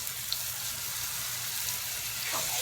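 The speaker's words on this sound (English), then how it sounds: "And we're going to pan fry these up until they are done." Chicken pieces pan-fry meat side down, a steady, even sizzle hissing without pause.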